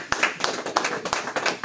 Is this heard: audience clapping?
yes